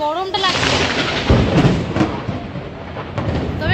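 Loud, close thunder rumbles during oddly sunny weather on a trip to the Jharkhand waterfalls. Booming, crackling low rolls swell and fade across the moment, with a brief voice-like murmur near the start.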